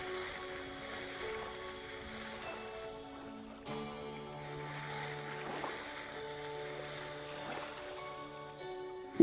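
Swishing, watery sloshing of ore being panned in the video game Vintage Story, repeating steadily beneath a prominent tonal music track for the whole stretch.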